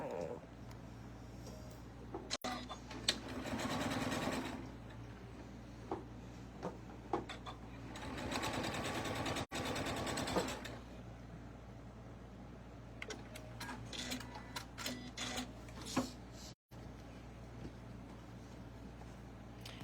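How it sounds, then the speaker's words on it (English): A sewing machine top stitches a fabric shoe bag in two sustained runs of rapid stitching, with quieter pauses, handling noises and faint clicks between them. "Going to top stitch it."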